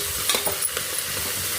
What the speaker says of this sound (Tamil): வெங்காயம் நல்லா கொஞ்சம் லைட் ப்ரௌனாக வதங்கி வரட்டும்